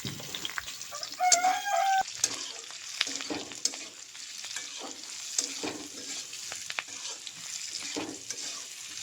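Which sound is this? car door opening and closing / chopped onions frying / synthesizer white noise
chopped onions frying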